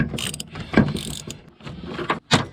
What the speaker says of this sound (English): now we can put a little flathead screwdriver in there and hold it while we unscrew it